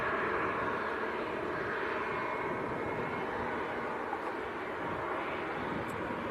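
An Emirates Boeing 777-300 jet airliner at Manchester Airport produces a steady, broad engine roar, heard at a moderate distance and holding constant throughout with no voices.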